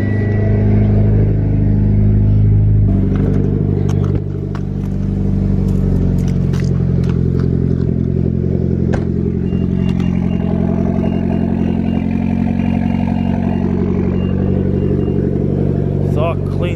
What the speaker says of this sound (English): I gotta warm up both the cars before George gets here.